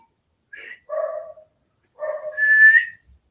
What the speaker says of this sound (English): They're up on the roof barking at God knows what.